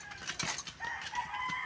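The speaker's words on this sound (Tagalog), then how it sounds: "Yan, may manok po kami din." A chicken crows briefly at a farm, a faint, somewhat distant call over low background noise.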